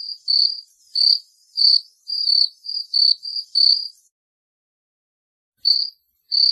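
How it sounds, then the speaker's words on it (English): Grasshopper chirping close by: about eight evenly spaced high, sharp pulses in a steady rhythm, a gap of silence, then two more chirps, clean with no other sounds. "Grasshopper."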